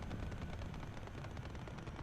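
Sustained machine gun fire in a War Thunder tank battle, a dense continuous rattle of rapid shots filling the whole stretch, loud and close with no talk over it.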